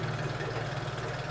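A Yamaha F9.9B outboard boat motor runs in a test tank with a steady, low idling hum and vibration, faint and even throughout.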